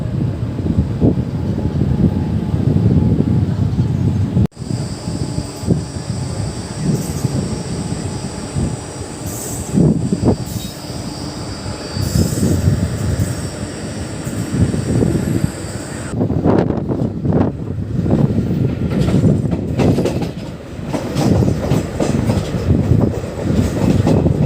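Train 14102, the Kanpur Central to Prayagraj Sangam Intercity Express, runs steadily on the tracks with loud, continuous rumble and clatter of wheels and carriages heard from on board, with bursts of rattling and faint squeal.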